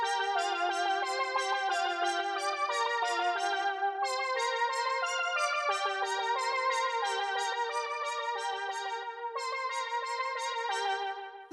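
A bright synthwave lead synth plays a quick repeating melody of rapid plucky notes, steady and continuous, alone without voices.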